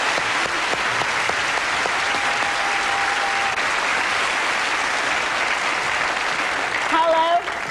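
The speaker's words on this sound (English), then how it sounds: "A big round of applause." Studio audience at a 1991 television variety show applauding, a dense, steady wave of clapping that fills the room, close and sustained, with a voice briefly audible near the end.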